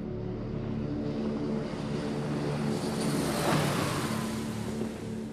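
Steady, loud drone of an E-2 propeller airplane's engines on an aircraft carrier flight deck, with a layered tonal hum that swells briefly near the middle as if passing close by.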